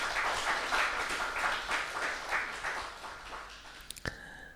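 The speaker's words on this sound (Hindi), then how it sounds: "तो रामनाथ भाई का हम भरपूर तालियों से अभिनंदन।" An audience applauds to welcome Ramnath Bhai at an honouring ceremony in Delhi-NCR: sustained, rhythmic clapping from many hands, moderately close, fading away after about four seconds with a sharp click at the end.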